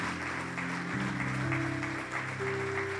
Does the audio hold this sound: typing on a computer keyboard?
no